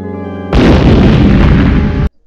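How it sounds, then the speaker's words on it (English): A sudden loud burst of explosion-like booming and crackling erupts after a brief tone and lasts about a second and a half before cutting off abruptly. "we just need a bunch of explosions just happening at the very end"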